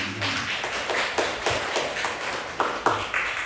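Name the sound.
church congregation clapping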